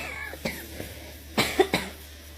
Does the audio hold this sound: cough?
yes